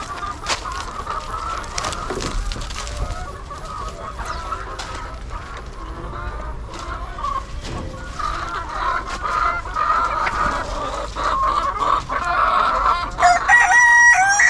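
Spotted hens and roosters in a Kerala yard, close by, with repeated crowing and busy clucking that overlap continuously and grow louder toward the end.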